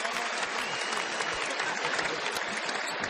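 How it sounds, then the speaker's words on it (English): A large crowd at a college basketball game between Clemson and Florida State cheers and claps in a dense, continuous roar, loud and sustained for the whole stretch with no clear talk. "when the crowd starts cheering, it usually means that he's able to move around"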